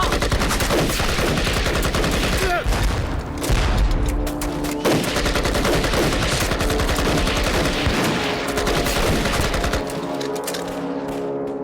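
Heavy gunfire from a war-film ambush on Japanese troops fills the scene: continuous rapid machine-gun bursts and rifle shots layered into a dense, loud fusillade, with blasts punching through until the firing thins near the end.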